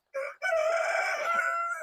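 A rooster crows once, loud and close, a short opening note followed by a long drawn-out call.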